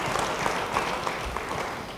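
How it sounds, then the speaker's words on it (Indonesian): A church congregation applauding, a steady clapping crowd at moderate distance with no talk over it, sustained evenly for a couple of seconds. "Yang senang beri tepuk tangan bagi dia."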